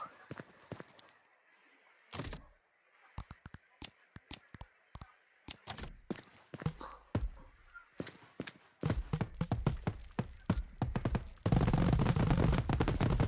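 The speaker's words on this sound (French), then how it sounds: "la bombe, celle qui fait le plus de bruit et qui fait le plus de feux d'artifice" Fireworks in the game Fireworks Mania go off as a string of sharp cracks and pops, sparse at first, then denser rapid bursts building to a loud crackling barrage.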